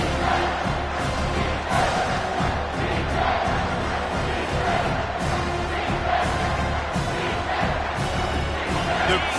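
A packed college football stadium crowd roars loudly and continuously on a big third down in an SDSU versus UH game, a dense, sustained wall of cheering and yelling with swelling peaks.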